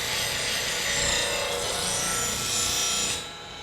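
A bench grinder sharpens a woodturning scraper, giving a loud, steady abrasive hiss and rasp that runs unbroken for about three seconds, then drops away abruptly near the end.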